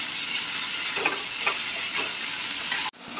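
Bitter gourd slices sizzle steadily in a hot pan with masala for a Maharashtrian karela bhaji, with a continuous frying hiss, a few soft stirring scrapes, and the sizzle cut off abruptly near the end.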